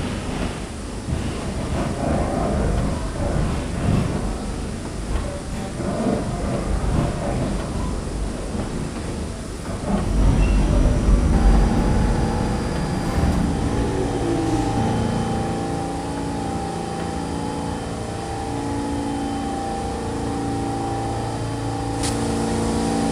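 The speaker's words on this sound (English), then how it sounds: "This is the Queensbound T local train." NYC subway R46 train on the Queens-bound T local runs with a loud rumbling roar and clatter over the rails, surging midway before settling into a steady whine and hum as the ride continues.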